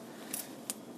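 Scissors snip through crochet yarn while finishing a starfish washcloth, two quick, crisp, close cuts in an otherwise quiet room.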